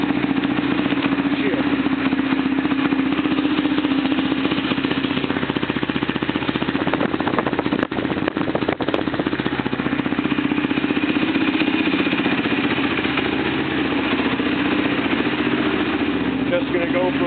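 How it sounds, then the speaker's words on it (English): An LTR 450 quad engine is cold-started and left idling, giving a loud, steady, rattling mechanical drone that continues unbroken for the whole stretch. "Figuring I'm gonna fire up my quad"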